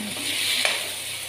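Soaked sabudana is stirred and cooked in a pan for sabudana khichdi, giving a steady soft sizzle with a few scraping stirs, and no one speaks.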